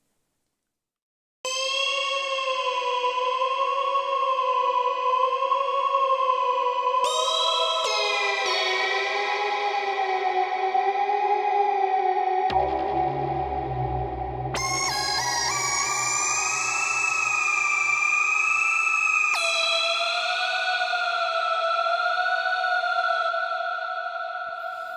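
Massive Augmented synth lead preset called 1% Health, a bright sustained electronic lead gliding between held notes with heavy effects and a deep bass layer entering midway, playing alone without talk.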